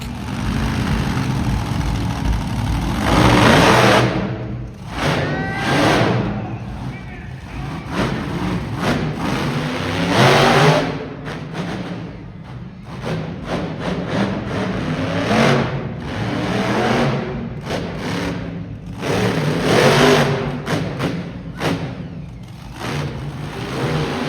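A monster truck engine rumbles and revs repeatedly, surging in loud bursts then dropping back, echoing in a large open arena during a motorsports show.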